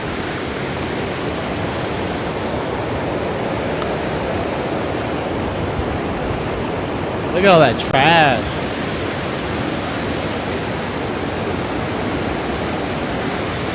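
Heavy water pouring over concrete aeration steps into Lake Mead, a constant broadband rushing roar that holds steady throughout, with a brief spoken remark partway through.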